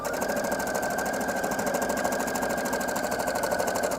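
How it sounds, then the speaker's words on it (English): A sewing machine running fast and steady while stitching a shoulder seam on a top, a close, continuous rhythmic whirring chatter with no pauses and no talk. "I'm going to keep the sewing going in the direction of that seam"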